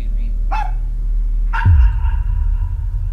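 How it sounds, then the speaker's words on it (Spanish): A dog gives a couple of sharp barks, with a low rumbling background and some nearby movement between them. "un desconocido que el propio perro detectaba y alertaba a través de ladridos"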